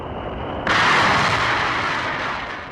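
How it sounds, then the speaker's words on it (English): The escape rocket fires to pull a Mercury capsule off its Atlas booster: a sudden loud roaring blast that breaks over a quieter background hiss and keeps roaring steadily, fading only slightly toward the end. "The escape rocket takes the capsule away from the booster."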